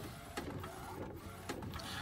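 A McLaud MP1822 DTF printer runs while printing onto a long film roll, giving a quiet steady mechanical whir with soft periodic clicks and shuttling sounds, heard close up without speech.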